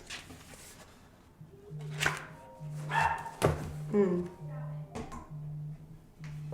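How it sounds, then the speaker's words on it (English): A dog barks in a series of muffled woofs nearby, alongside a repeating electronic phone ring, while a person talks over it. "my dog is barking"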